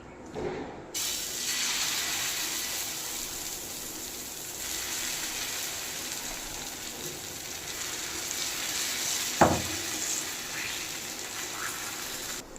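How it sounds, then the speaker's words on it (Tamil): Ragi adai batter lands on a hot ghee-greased griddle and bursts into a strong, continuous sizzle that holds steady for several seconds, broken by one brief clatter near the end, with no talk. "இப்போ இதை ஊற்றிக்கிறேன்"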